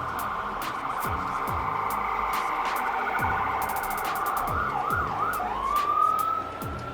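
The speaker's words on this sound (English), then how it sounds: "Those sirens passing my apartment were perfect sound effects." Emergency vehicle sirens pass outside an apartment, the wails rising and falling, then changing to fast yelps near the end, over a faint background hum of traffic.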